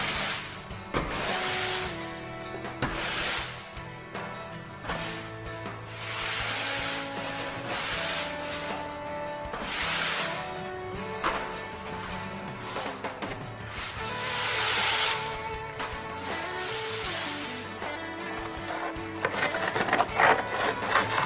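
Dust is swept off a surface with a run of rhythmic, scratchy brush strokes repeating every couple of seconds, close and moderately loud, over a faint steady tonal hum.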